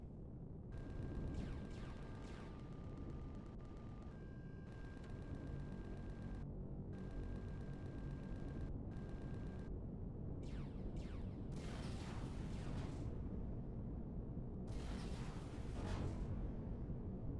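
Turrets fire in Empyrion Galactic Survival (Reforged Eden) against Zirax patrols: loud, rough booming bursts over a steady mechanical hum, with sharper clustered volleys toward the end and no talking.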